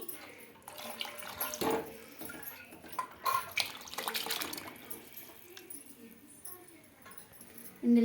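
Water is poured into cooked lentils in a pot for sambar, with several splashing bursts in the kitchen and someone talking throughout.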